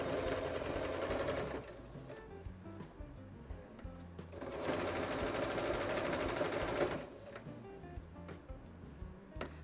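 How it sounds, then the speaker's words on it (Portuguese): A sewing machine stitches a fabric ruffle on a small sewn bunny, running in two steady bursts with a quieter pause between them, close and moderately loud with no talking. "Vamos costurando aqui."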